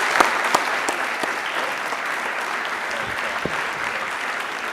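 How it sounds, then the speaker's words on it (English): An audience at a public debate on state and national issues applauds its panel. Sustained, loud clapping fills the hall evenly, with a few sharper individual claps standing out near the start. "let's give this wonderful panel, Dr. Holsworth and Governor Wilder, a round of applause"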